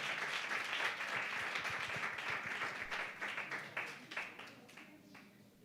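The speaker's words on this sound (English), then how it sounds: "let's give them one big round of applause" An audience claps together in a sustained round of applause at a women-in-business event, the dense clatter holding steady before thinning out toward the end.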